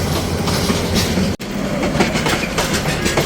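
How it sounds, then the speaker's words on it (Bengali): A train rolls past on the line between Banani and Khilkhet in Dhaka, wheels clattering in a steady clickety-clack at close range, loud and continuous apart from one brief dropout. "ট্রেন চলে গেল"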